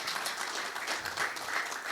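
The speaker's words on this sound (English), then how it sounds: "A round of applause for him, please." Audience applause at a business session for speaker Saurabh Shah, a dense, even wash of many hands clapping heard steadily throughout, moderately loud and slightly distant.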